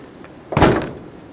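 A single solid thud of a car door shutting, close by, with a short rattling tail fading out; the door is not latching.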